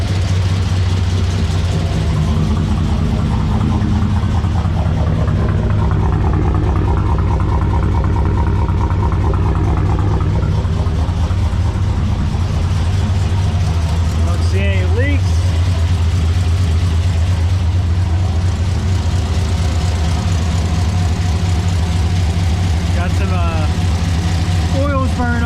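A Huron Speed turbocharged car engine idles on its first start, with the mass airflow sensor unhooked. It holds a steady, deep, slightly chugging rumble throughout, and voices can be heard faintly under it.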